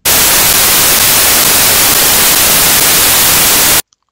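Randomly generated white-noise waveform from a homemade C# audio synthesizer, a loud, steady full-band hiss that holds unchanged for nearly four seconds and then cuts off abruptly.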